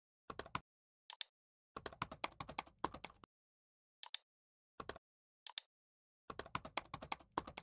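Typing code on a computer keyboard, bursts of quick, crisp key clicks separated by short pauses and isolated single taps, close and clear with no talking.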